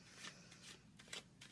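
Tarot cards shuffled by hand, a soft quick riffle of repeated papery flicks, close and quiet with no talking.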